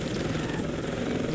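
A US helicopter in the Vietnam-era Heliborne video game flies with a steady, dense rotor and engine roar, loud and continuous throughout with a heavy low throb and no breaks.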